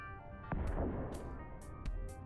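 Ship weapon fire in the grid-based deckbuilding video game Star Vaders, heard as a few punchy blasts with bright bursts, set over a steady game music bed.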